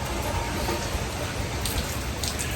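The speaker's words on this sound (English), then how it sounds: "You can hear the rain hitting the fire, the grill." Light rain sprinkles onto a grill and its fire on a gloomy, windy day, a dense steady patter and hiss with a few brighter sizzling spots, continuous throughout.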